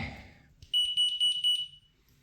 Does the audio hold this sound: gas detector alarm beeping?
yes